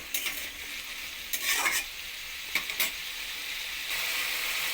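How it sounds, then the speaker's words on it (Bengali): Papaya and potato pieces frying and being stirred in a pan, a steady hiss of sizzling with a few short scraping strokes of the spatula standing out, close and fairly quiet, no voices. "পেঁপে আলুটা আমি নাড়াতেই থাকবো ভেজে নেবো যতক্ষণ না পেঁপে আলুর মধ্যে জলটা শুকিয়ে নেওয়া যাচ্ছে"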